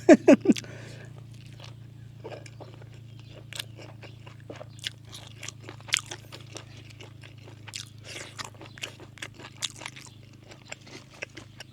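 Raw beef eaten with fresh vegetables, crunched and chewed close to the mic in scattered soft bites and sharper crunches over a quiet background hum.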